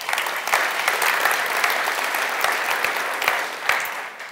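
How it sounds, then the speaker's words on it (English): A dense, loud wash of audience applause fills the hall at a web performance conference, thanking the organizers; continuous clapping with a few sharper claps standing out, no talk over it. "so let's give a round of applause for them"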